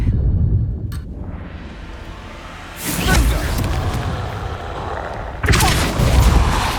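Confringo spells explode in the Hogwarts Legacy video game, two heavy booming blasts a few seconds apart, loud and close over a rumbling battle background.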